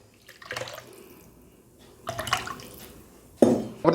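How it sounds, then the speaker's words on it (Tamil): Tamarind water poured into a pot while making a herbal kuzhambu, heard as several close splashing, trickling bursts of liquid with small clinks of the vessel between quieter pauses. "அதுக்கப்புறம் அந்த புளி கரைச்சலையும் சேர்த்துக்கலாம்."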